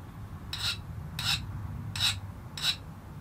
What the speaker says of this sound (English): It's scraping some of this black gunk off.